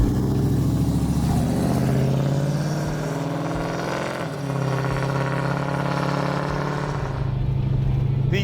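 A supercharged 1969 Chevy Camaro RS/SS Pro-Touring with an LS3 V8 revs loud and close, its engine note rising and falling with a brief dip midway.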